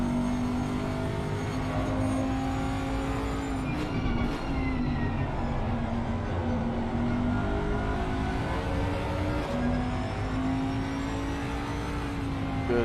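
GT3 race car engine in Assetto Corsa Competizione at Kyalami, a steady high-revving drone heard from the cockpit with gear shifts and small pitch swings as the car chases a BMW, no talking.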